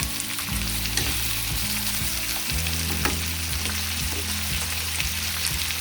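Tomato mint chutney with tamarind frying in a pan, a continuous close, loud sizzle and crackle throughout with no voices.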